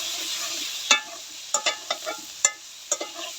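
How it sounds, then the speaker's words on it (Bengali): Turmeric, coriander and chili powder frying with salt in a pan, a soft continuous sizzle broken by several sharp clinks and scrapes of a stirring utensil at uneven intervals, with no voices. "ভালো করে একটু ভাজা করে দেবো মশলাগুলো।"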